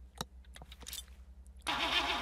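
A 2018 Rolls-Royce Phantom VIII engine starting in City Car Driving, with a few clicks and taps, then the engine catching and settling into a loud, steady idle with a cabin hum.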